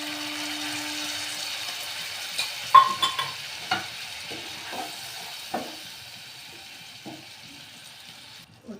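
A paste of ground cashew, coconut and melon seeds stirred into hot oil for an egg malai curry, giving a steady low sizzle with scattered soft clicks and scrapes of a spoon against the pan.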